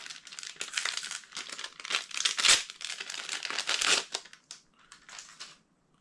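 Gauze pads being pulled one at a time from crinkly packaging, a dense, continuous run of loud crinkling and crushing rustles with sharper bursts, fading toward the end.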